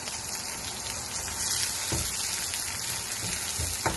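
Ginger, garlic and green chillies sautéing in hot oil for a quail fry, a steady close sizzle and crackle throughout with a few louder spits and pops, no talk.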